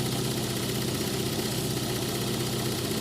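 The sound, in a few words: Toyota Corolla engine idling while warming up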